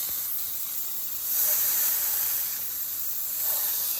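Bacon cheeseburger patties smashed with a spoon on a hot cooking surface give off a steady close hiss and sizzle that swells briefly a couple of times, with no talking.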